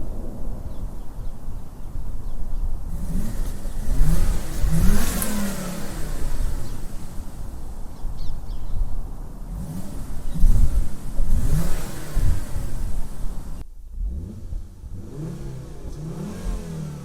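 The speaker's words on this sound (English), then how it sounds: "do a few little revs just to give you an idea of what the standard exhaust is like" Volvo S60 T5 five-cylinder engine on its standard exhaust, heard from behind the car as it is revved several times, each rev rising and falling over a steady idle, fairly loud and close.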